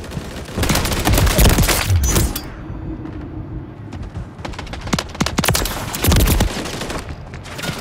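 Rapid bursts of MTZ-762 battle rifle fire in a Call of Duty MW3 multiplayer match, loud, close and sustained, with a short lull before more volleys and other distant shots and impacts mixed in.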